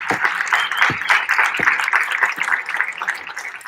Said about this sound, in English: I don't know why you clap.